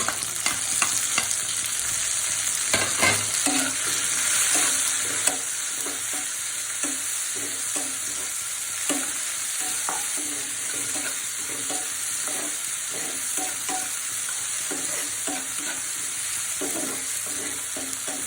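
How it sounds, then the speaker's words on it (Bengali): Chopped tomato sizzles steadily in a hot pan while being stirred for a garlic mash, with frequent light scraping clicks over a continuous frying hiss throughout. "আমি একটু এখন টমেটো কুচি দিয়ে দিচ্ছি।"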